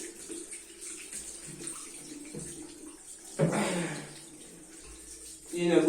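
Tap water running and splashing while feet are washed for Islamic ablution, a steady gurgle that swells into louder splashing bursts partway through and again at the end, with a voice speaking over parts of it.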